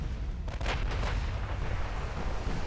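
Heavy battleship guns firing in the naval game Ultimate Admiral Dreadnoughts, a couple of deep booming reports over a constant low rumble of battle noise, with no talk.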